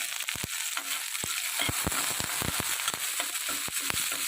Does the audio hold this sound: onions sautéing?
yes